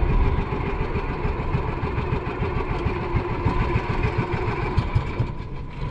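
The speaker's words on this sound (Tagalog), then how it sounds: "Ano yung hindi mo napatay na makina?" Small fishing boat's motor left running at sea, a steady mid-pitched idling rumble with a fast, even throb, loud and close, heard alone without talk.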